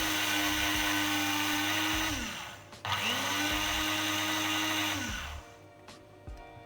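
Electric spice grinder whirring loudly as it grinds granulated sugar into powdered sugar for cookies, running in two bursts with a steady high motor whine that drops off between them, close and alone.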